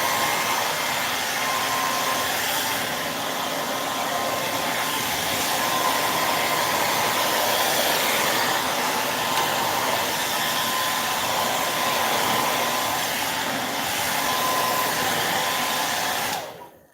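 A hair dryer blows over Dixie Belle patina paint in a steady, loud, continuous whooshing hum lasting several seconds before it switches off at the end, with no talking.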